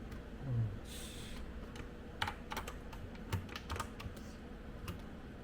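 Computer keyboard keys, including the Shift key, are pressed during photo editing, making a scattered run of light clicks at close range over a steady room hum, with no voices.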